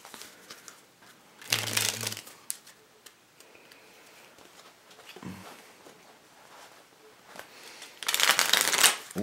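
A borderless Dan & Dave playing card deck is fanned in two quick, crisp bursts of riffling card edges, separated by several seconds of near quiet.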